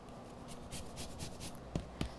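Lemon zest is rasped off a lemon on a grater in a home kitchen, a close soft scratching in quick strokes that ends in two sharp taps.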